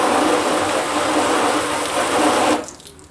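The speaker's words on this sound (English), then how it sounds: "So we'll rinse it off and see how it's looking before we wash." Water spraying hard onto a dusty car test panel outdoors, a loud continuous hiss of rinsing that cuts off abruptly near the end.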